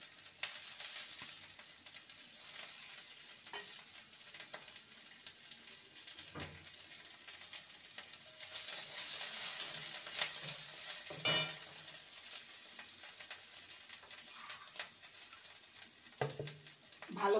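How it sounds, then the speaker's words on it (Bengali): Ginger and curry leaves are stirred in hot oil in a pan. A steady low sizzle runs throughout, with occasional scrapes and a sharper clink from the spoon against the pan, close and moderately quiet. "আদাটাকে ভালো করে তেলের সাথে নেড়ে নেব।"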